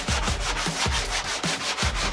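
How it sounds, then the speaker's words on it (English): Rhythmic back-and-forth scrubbing of a sanding block on wood, about a dozen quick strokes in a steady pattern, close and fairly loud. "for this I'm just using little sanding blocks."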